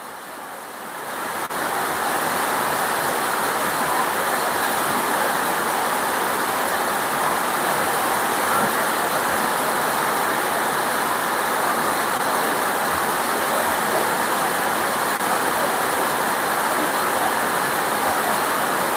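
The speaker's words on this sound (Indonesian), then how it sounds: "Jadi hujannya kembali mulai deras." Heavy rain pours down in a dense, steady hiss that swells in over the first second or two and then holds loud and unbroken, with no voices.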